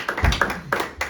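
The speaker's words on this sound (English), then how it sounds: "Give him a round of applause for helping there." Short burst of audience clapping at a cancer awareness talk, a few sharp claps and taps spread over about a second, moderately loud, with no speech over it.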